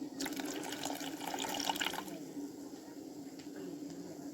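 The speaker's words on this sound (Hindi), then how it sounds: "और लास्ट में हम इसमें 4 table spoon lemon juice add कर देंगे।" Lemon juice, four tablespoons, pours into a pan of cooking spiced water for gol gappa, a splashing liquid trickle for about two seconds that then gives way to a quieter steady simmer.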